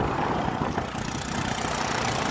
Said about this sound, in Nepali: केटीले बाइक चलाउँदैछ